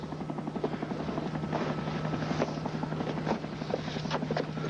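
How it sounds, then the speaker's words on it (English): A helicopter drones overhead with fast, steady rotor chop and a continuous engine whine, moderately close and unbroken throughout. "here's the chopper. Yeah, right, I heard it"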